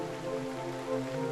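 Soft continuous rain patter from Dragon Quest III HD-2D Remake, a short even wash of falling rain beneath held musical tones, with no talking.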